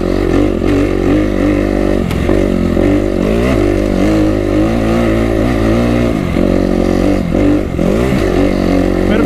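A Kawasaki KX250 motocross bike holds fourth gear, its engine droning loud and close with rising and falling revs throughout, and a rider's voice briefly heard over it.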